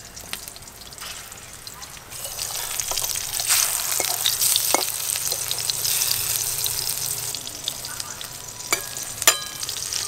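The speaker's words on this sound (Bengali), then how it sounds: "বাকিগুলো ভেজে নেব।" Crab fritters frying in oil in a pan, a continuous crackling sizzle that grows a little louder partway through, with sharp scraping clinks from stirring now and then.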